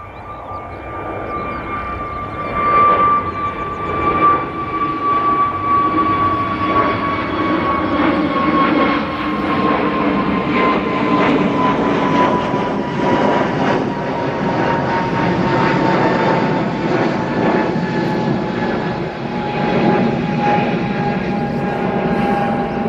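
An Airbus A320neo airliner departs Manchester Airport, its engines building to a loud, sustained roar with a slowly falling whine that holds for the whole stretch, heard alone without talk.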